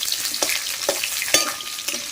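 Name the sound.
frying vegetables in oil for hilsa curry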